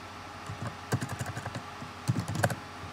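Typing on a computer keyboard while working in a terminal to unpack a ROOT tar.gz archive, heard as quick clusters of clicky keystrokes in two bursts, fairly close and moderately quiet, with no talking.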